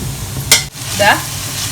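Raisins frying in a pan as garnish for a Malabar fish dum biryani: a brief, loud, steady sizzle with a quick scrape of a spoon.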